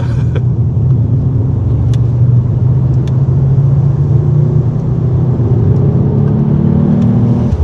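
A Mercedes-AMG CLE53 engine runs at a steady, loud, low rumble heard from inside the car, holding an even drone throughout with no voices.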